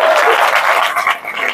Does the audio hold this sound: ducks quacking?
no